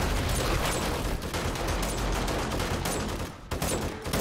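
Rapid gunfire in the zombie survival game 7 Days to Die, a dense burst of loud repeated shots with a brief pause near the end before firing resumes.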